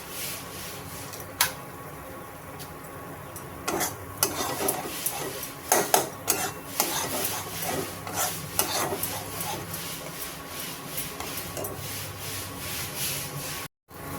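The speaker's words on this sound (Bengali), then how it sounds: "মশলাটা খুব সুন্দর ভাজা হয়ে গেছে, তেল ছেড়ে দিয়েছে।" Spice paste frying in oil for a potato and pointed gourd curry is stirred with steady scraping and rubbing strokes against the pan over a faint, continuous sizzle, fairly quiet and close.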